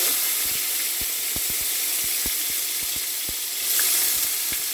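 Tomatoes hit a hot saucepan already used for frying breadfruit, setting off a loud, steady sizzle with a dense hiss and scattered crackling pops, swelling briefly near the end.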